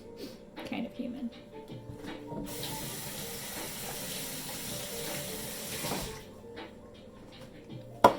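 A mixing bowl is rinsed under a running kitchen tap, with a steady rush of water for several seconds between brief clatters and handling noises.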